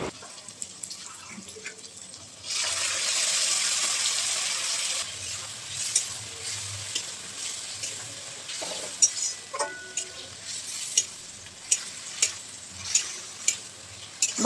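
A ginger, garlic, onion and green chili paste hits the hot pan with fried potatoes and erupts in a loud hiss, then the sizzle settles into softer frying marked by regular scraping and stirring clicks from a spatula.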